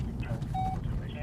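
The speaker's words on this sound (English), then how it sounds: "You can see from the tracker unit now, it's starting to beep" A police tracker unit homing in on a stolen car gives a short, thin electronic beep over a low rumbling background. Faint voices are present.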